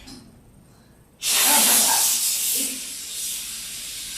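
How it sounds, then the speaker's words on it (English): An Instant Pot pressure cooker vents steam in a sudden loud, steady hiss that bursts in after a quiet second and keeps rushing on without a break. "That just dissipates the steam."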